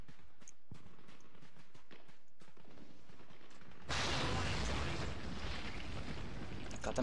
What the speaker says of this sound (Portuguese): O cara também tem um tiro de RPG, mano.